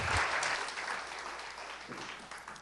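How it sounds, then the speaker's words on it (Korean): A church congregation at a Korean Sunday service breaks into a short burst of warm clapping that starts strong and slowly tapers off, with no voices over it. "박수 한번 해주시기 바랍니다."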